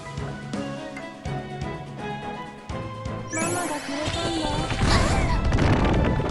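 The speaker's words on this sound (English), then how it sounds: "it's like a bomb that heals you" A bomb explodes in the video game Dossia, a crashing, booming burst that rises out of the game's tinkling background music and keeps rumbling loudly to the end.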